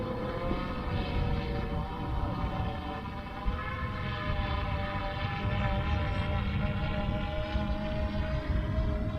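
A DJI Phantom 4 Pro V2 drone flying over an open field, its propellers giving a steady, close, high-pitched whine with layered tones that hold constant for the whole stretch.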